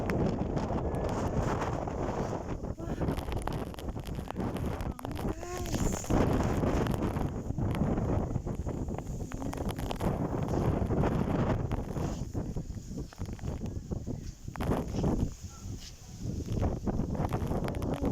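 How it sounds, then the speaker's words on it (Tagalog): Strong wind roars in gusts during a rainstorm, a loud, continuous buffeting rush against the microphone with rustling surges and no speech. "Ayan, lakas ng hangin."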